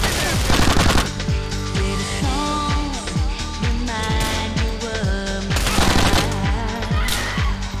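Sustained automatic gunfire fills a nightclub shootout in Grand Theft Auto IV: The Ballad of Gay Tony, rapid loud bursts rattling on with music-like tones running underneath throughout.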